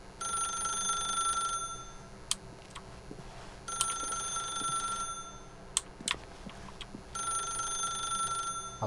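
A telephone rings in the video game The Stanley Parable, with three repeated bursts of bright electronic ringing separated by pauses and a low room hum beneath.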